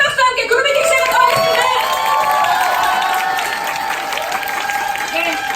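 A large crowd at a group meeting breaks into loud, sustained applause that fills the room evenly from start to finish, with a few cheers mixed in.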